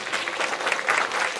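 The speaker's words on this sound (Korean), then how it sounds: "이런 것들도 여러분들 한번 또 박수로 또 격려도 해주시고요." Audience applause at a Korean talk event, dense and steady clapping from a full crowd filling the moment without any voice over it.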